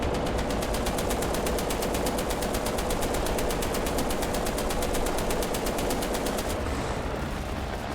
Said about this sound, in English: They're like strafing me for some reason.